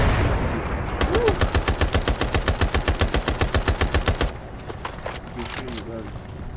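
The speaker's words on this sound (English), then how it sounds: "Keep shooting him, buddy." Rapid, evenly spaced automatic gunfire bursts loud and close in the World War II shooter Brothers in Arms, a steady rattle lasting several seconds before cutting off, with a voice whooping and talk over quieter game sounds afterward.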